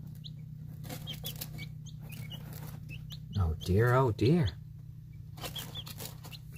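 Young chicks cluck and chirp in a short burst with a brief flurry of wing flapping, heard close over a steady low hum of a brooder or room, while a person speaks softly around them.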